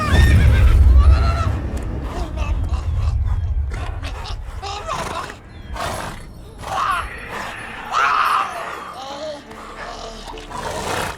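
The horse Roach neighs and whinnies in The Witcher 3 video game, loud whinnying bursts over game ambience and hoof sounds, with a voice talking in places.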